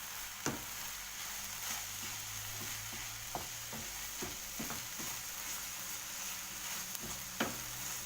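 Vegetables and fragrant herbs being stirred in a hot pan for a stuffed gratin filling, giving a soft continuous sizzle with occasional light taps of a utensil, quiet and close with no voices.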